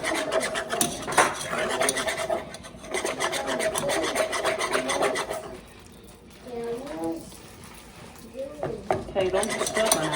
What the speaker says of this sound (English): Alright, so we're going to keep whisking because we're trying to get it a dark color.